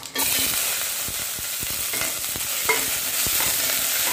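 Potol kuruma ingredients, pointed gourd pieces, fry in a pan until golden brown, giving a steady close sizzle with intermittent scraping and stirring clicks throughout.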